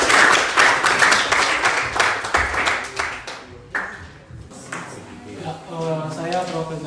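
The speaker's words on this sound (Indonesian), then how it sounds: "Oke, tepuk tangan dulu buat" Classroom applause from students after a group presentation: dense, brisk clapping fills the first few seconds, then fades out as a voice begins talking over the room.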